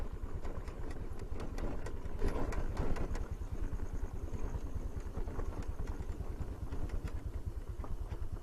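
A scooter engine idles at night on a downhill off-road route in Gorkha, a soft steady rapid putter with faint clatter, fairly quiet and unbroken.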